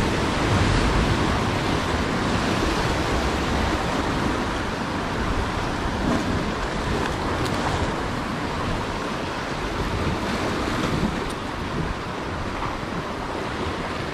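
Big ocean waves break against a rocky shore in Palawan, a dense, continuous wash of surf and wind that stays loud and near throughout, with no voices over it.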